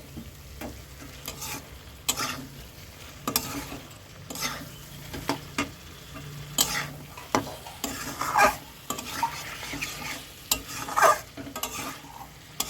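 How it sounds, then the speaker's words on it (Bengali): A spoon stirs chicken Patiala curry in a pan after cumin and coriander powder go in, giving loud, irregular scrapes and clinks over a steady close sizzle of frying, with no talking. "1 চামচ জিরের পাউডার, আর একটু নাড়াতে থাকবো, জালটা একটু বাড়িয়ে।"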